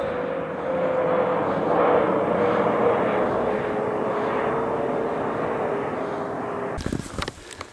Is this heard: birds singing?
no